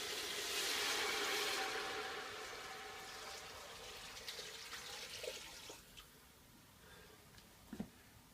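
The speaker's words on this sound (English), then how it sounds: "I'm going to go ahead and add a little bit of filtered water." Filtered water pours steadily into a pot of turkey bones for stock, a close rushing stream that tapers off, leaving a few faint drips and clinks.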